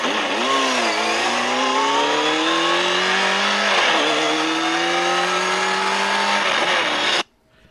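A motorcycle engine roars and revs up steadily with rising pitch, dropping briefly before accelerating again, loud and close, then cutting off abruptly.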